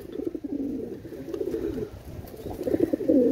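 Pigeons coo repeatedly in low, soft throaty phrases, close by, among a loft of fancy breeds including high-flying Giribaz, Teddy, Benares and Indian Kalanka pigeons, with a steady murmur of several birds and no talking.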